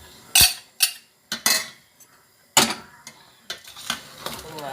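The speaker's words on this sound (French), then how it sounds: "maintenant je vais prendre mes côtes fumées, les côtes fumées, et puis je vais mélanger ça ici" Smoked ribs are stirred together with okra in a pot, giving a string of sharp spoon-against-metal clanks and scrapes at irregular intervals, close and distinct, without talk.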